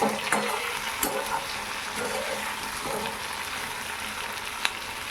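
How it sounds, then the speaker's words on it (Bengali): Shrimp frying in a pan while an ivy gourd masala curry is being prepared, giving a steady close sizzle with a few sharp pops and spatters throughout, no talking. "আরেকটু সুন্দর করে ভেজে নিতে হবে"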